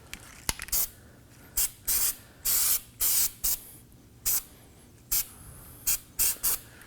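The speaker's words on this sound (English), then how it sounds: "Now we can go ahead and spray some Never Seez on this surface before we install the rotor." Anti-seize compound sprayed from an aerosol can onto a wheel hub surface on a Nissan Armada during a rear wheel bearing and hub replacement, heard as about ten short hissing bursts of uneven length, close and fairly loud, with no talking.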